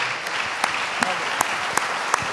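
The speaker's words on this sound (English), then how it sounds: "I think we should give Madame Bachelet a warm round of applause" A lecture audience gives Michelle Bachelet, UN High Commissioner for Human Rights, a warm round of applause after her evening talk: a soft bed of clapping punctuated by a few sharper, evenly spaced claps standing out nearby.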